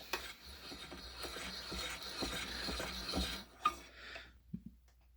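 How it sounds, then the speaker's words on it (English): A hand-turned case trimmer shaves the necks of brass cartridge cases, a soft, close rasping scrape repeated in short strokes before stopping, followed by a couple of faint clicks, with no talking. "it doesn't take much to trim brass. And you just go around. It cleans it up a little bit."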